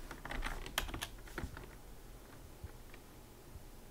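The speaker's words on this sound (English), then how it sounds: "So I'll copy that, type in general." Quick, light key taps on a computer keyboard in short bursts, close but quiet, thinning out toward the end.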